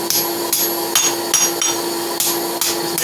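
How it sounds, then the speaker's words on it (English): Hot steel being hammered into a horseshoe at a forge, about eight sharp metallic blows at an uneven, fairly steady rhythm, each ringing briefly, close and loud, with no talking. "Hammer it."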